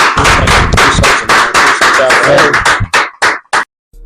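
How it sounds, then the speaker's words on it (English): Applause for podcast guest A1 Steele, a loud close burst of hand clapping that thins into a few scattered final claps before stopping, with voices talking underneath. "We're gonna clap it up for A1 Steele, brother."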